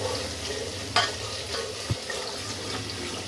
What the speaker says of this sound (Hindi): अब इसको भी भूनना है।